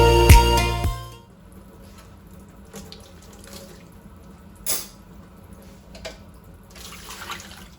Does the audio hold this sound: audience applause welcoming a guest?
no